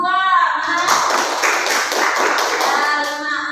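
Schoolchildren in an Indonesian classroom clap together to vote for a group, making a loud, continuous burst of clapping after an adult voice briefly speaks at the start.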